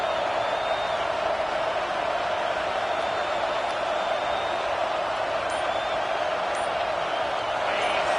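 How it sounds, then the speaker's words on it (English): Steady broadband roar of a stadium crowd in a football video game, a continuous loud wash of cheering with no pauses, heard alone throughout. "The roar of the crowd trying to fuel this defense to keep them pinned in their own end"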